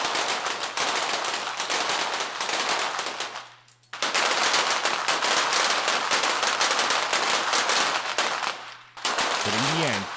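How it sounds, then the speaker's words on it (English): Rapid volleys of shots crack from competitors firing at targets in an international team shooting event, dense and loud, with a brief lull before the firing resumes. "As the competitors continue to shoot away."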